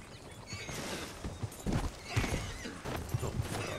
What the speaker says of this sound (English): Oh, did I really just hit my horse?